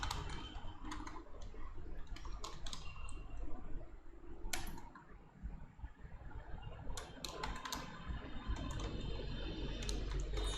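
Quiet computer keyboard typing during coding work, with irregular bursts of soft keystrokes over a low fan hum, close but faint and without speech.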